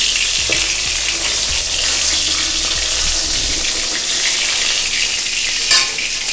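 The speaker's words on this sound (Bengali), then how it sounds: "মাছে যে আলুগুলো দেবো সেগুলোকে চলো একটু ভেজে নিই" Potatoes for a fish curry fry in hot oil with a continuous bright sizzle, close and steady, with a few light clinks of utensils and stirring underneath and no voices.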